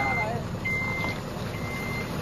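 Steady reversing beeps ring out from a truck easing out through a gate, three evenly spaced electronic tones over a continuous low engine rumble.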